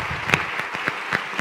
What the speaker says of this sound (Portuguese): e podem aplaudir.